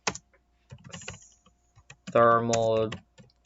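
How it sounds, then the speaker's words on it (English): Keys clatter on a computer keyboard in short bursts while someone types character names, with a voice speaking briefly in between the clicks. "I am really bad with typing"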